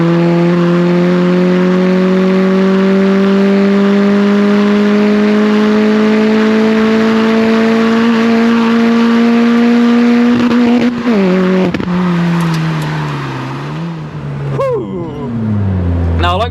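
Cammed Citroen C2 rally tribute car with a short wheelbase, engine droning loudly up through the revs while driving hard, then sharp rev changes and blips near the end, heard close from inside.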